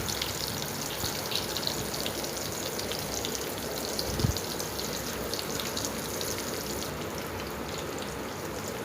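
Small onions sautéing in a pan for Tirunelveli-style fish curry, giving a steady, moderately loud crackling sizzle that runs throughout with no one talking.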